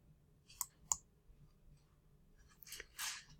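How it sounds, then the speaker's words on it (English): Two crisp mouse clicks close together, followed by a few soft rustles and a faint click, quiet and close in an otherwise silent room. "Now that we've got that, we're going to click Save."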